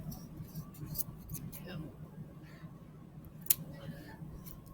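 Scissors snip the ends off a spring-themed DIY craft piece in a few light, close clicks, with one sharper cut standing out among soft handling rustles.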